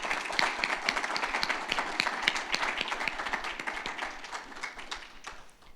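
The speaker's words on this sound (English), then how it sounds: "Ladies and gentlemen, please join us in a round of applause for our distinguished guests." A round of applause for distinguished guests at a military change of command ceremony, crisp clapping from a crowd, many individual claps audible, steady throughout and tapering off at the end.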